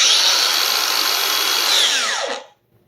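A Makita angle grinder whines at full speed, then its brake cuts in and the pitch sweeps sharply down to a quick stop, leaving near silence; loud and close.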